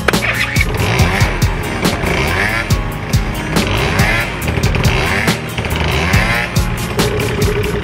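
A tuned scooter with a 150cc exhaust damper is ridden on a road, its engine droning loudly and close with rapid pulsing exhaust and shifting revs over wind noise.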